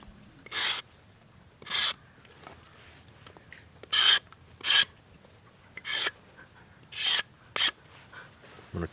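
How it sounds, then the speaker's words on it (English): Knife blade scraping sharp edges off a bamboo tent peg, eight short rasping strokes in an uneven rhythm, close and clear against quiet background. "I'm going to go ahead and scrape off those sharp edges that will really cut your hand"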